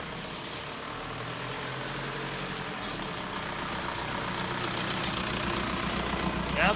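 A Volkswagen TDI Beetle diesel engine idles steadily and close by, a low even rumble with a faint knocking texture that holds throughout and swells slightly toward the end.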